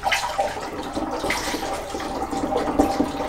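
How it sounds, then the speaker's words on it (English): Water pours steadily into a one-gallon carboy while mead is being made, a continuous splashing, gurgling rush heard up close with no talking. "I'm sure this is really interesting to watch someone pour water in a container"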